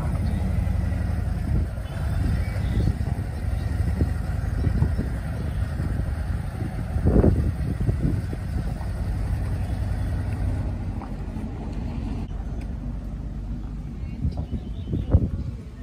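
A motorcycle towing a pop-up camper rolls along, a steady engine drone mixed with wind rush that holds for the whole stretch, with a few brief louder bumps and a voice speaking over it.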